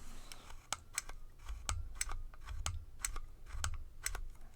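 A paper corner rounder punch clicks empty with no paper inside, a steady run of about a dozen sharp, close clicks in an uneven rhythm, each with a soft low thump, heard alone in a quiet room.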